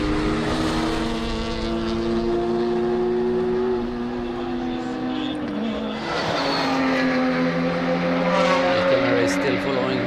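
Race cars, including a Volkswagen and a Porsche, lap the Riga circuit in a Baltic circuit racing championship, engines roaring and shifting pitch as they pass, loud and continuous with a commentator talking over them.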